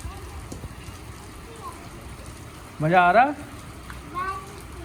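Rain falls in a village as a soft, steady hiss in the background, while children talk and call out over it, with one louder voice burst near the middle.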